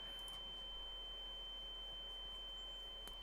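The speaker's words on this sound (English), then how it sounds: "Ear-splitting ringing." A piercing, steady high-pitched ringing tone holds unbroken from start to finish over a faint hiss, like an ear-splitting ringing sound effect.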